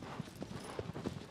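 Horse hooves clopping in Shadow of the Colossus, a quick uneven run of soft thuds over steady low background noise, with no voices.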